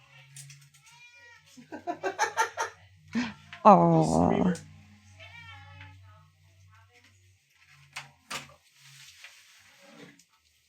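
A pet cat meows repeatedly at close range in a chatty series of rising calls, including one long drawn-out yowl, while people talk quietly around it.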